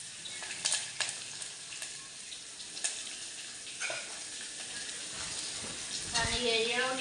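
Cumin, coconut, curry leaves and garlic fry in a pan with a continuous close sizzle, punctuated by occasional stirring scrapes and a louder crackle near the end, while someone talks over it.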